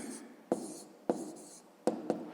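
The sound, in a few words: writing down the answer to a math equation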